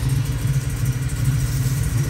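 A 1987 Buick Grand National engine idling just after its first start, a close, steady low rumble with a regular pulsing beat throughout, no talking.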